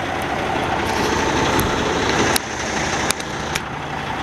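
The cab door of a 2019 Kenworth T680 truck slams shut with a single sharp thud, then a lighter knock follows, both cutting through the steady drone of the idling engine.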